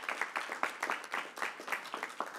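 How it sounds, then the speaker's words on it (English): A press-conference audience applauds young cadets with a steady patter of many hands clapping, moderately quiet and continuous throughout. "Let's give them a round of applause."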